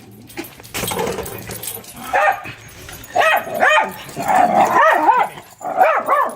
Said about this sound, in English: You hear Caesar getting mad because Cliffy's coming by and saying hi